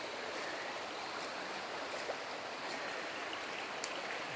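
A creek flowing about ten feet below a wooded hillside lot, heard as a steady, broadband rushing wash of water that holds even and continuous throughout with no voices.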